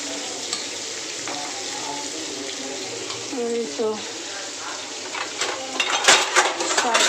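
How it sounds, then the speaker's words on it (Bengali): Meat frying in a pan, a steady broadband sizzle with occasional stirring scrapes that grows louder and busier toward the end, with a faint voice briefly in the background. "তো মাংসটাকে ভেজে নিতেছে আর একটু ভাজলে নামিয়ে ফেলবো আর একটু লাল করবো ভেজে"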